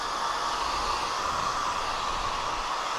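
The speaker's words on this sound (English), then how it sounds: "I've never heard a hairdryer this loud." A LOVEPS 1800W foldable hair dryer blowing on its frost setting gives off a loud, steady broadband rush of air, constant and unbroken from start to finish, with no talking over it.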